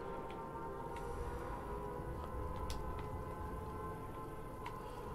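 Air raid sirens wail in Sniper Elite 5, a steady, sustained droning tone held throughout over a dense background of low rumble, with faint scattered clicks.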